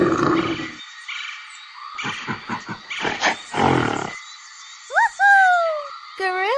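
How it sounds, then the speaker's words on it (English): A bear gives a deep, loud roar up close, followed by a string of short clicks, rattles and whistling sound effects. "Bear."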